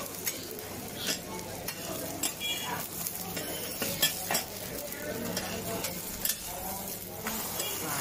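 Oyster omelette frying on a hot griddle at a Xiamen alley snack shop, with a steady sizzle under clinking and scraping of a spatula stirring and flipping, a few sharper metallic taps standing out.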